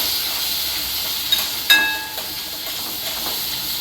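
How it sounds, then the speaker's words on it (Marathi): Masala paste for a skate fish curry frying in a pan gives a steady, close hiss and sizzle, with a couple of brief clinks and stirring scrapes partway through. "हे बघा, आता हे ना वाटण आहे ते व्यवस्थित फ्राय करून घेतले"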